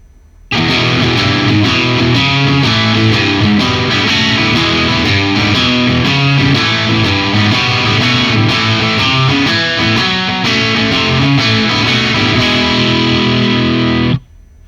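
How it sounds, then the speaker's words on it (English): Stratocaster-style electric guitar through an ENGL E670 Special Edition amp with the ultra bright switch off, a dense, loud, continuous distorted chordal riff with chorus-like shimmer, playing alone without talk before cutting off. "So first we're going to listen to this without the ultra bright switch engaged."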